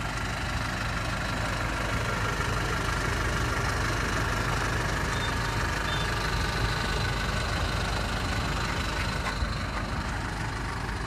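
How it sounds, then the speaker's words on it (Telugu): A 2018 Toyota Innova Crysta with the 2.4 engine idles with a steady, even hum and a faint ticking texture, close and unbroken throughout. "మెయిన్ మీకు ఇది చూపిద్దామనే ఇంజన్ ఆన్ చేసిన"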